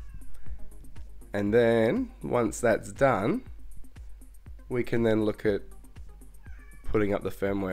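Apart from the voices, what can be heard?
cat meowing in the background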